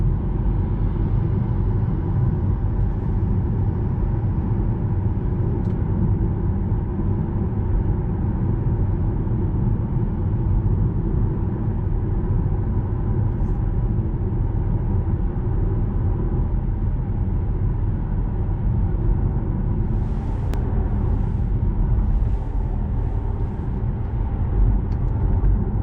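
Steady low road and cabin rumble from a 2019 Mini Countryman S Hybrid driving in auto e-drive mode, constant and fairly loud throughout with no talking.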